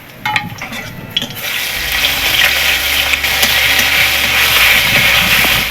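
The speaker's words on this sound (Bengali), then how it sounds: "এবার আদাটা দিয়ে একটু ভেজে নিচ্ছি।" Ginger fries in a pan of hot oil already holding five-spice seeds and bay leaf, starting with a few close clinks and stirring before a loud, steady sizzle swells and holds.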